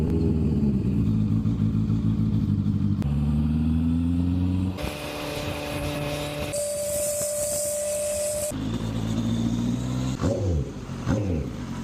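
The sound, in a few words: Benda LFC 700 Pro motorcycle engine warming up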